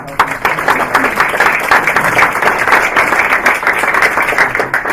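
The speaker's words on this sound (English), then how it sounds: "I'd like you guys to give them a round of applause." Audience applause at a science communications summit greeting introduced guests, a steady dense clapping that fills the room at strong, even volume throughout with no voices over it.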